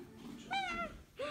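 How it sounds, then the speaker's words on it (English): A lost kitten gives two short, high meows, the first drawn out and falling, the second brief, heard close against a quiet background. "a kitten"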